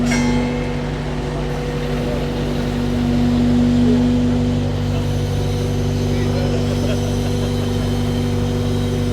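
A digger with a tilt attachment works at a plant show, its engine a loud, steady diesel drone with a constant tonal hum, close by throughout with little change in level.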